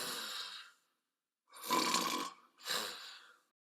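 A person imitates snoring while looking straight ahead: three rough, breathy snore-like rasps, the second and third longer, separated by silences, close and fairly soft.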